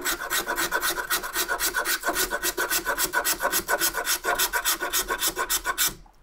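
A small hand plane shaves basswood (tilia) in a rapid run of close, raspy strokes, each stroke a scraping rush, continuing steadily before stopping abruptly.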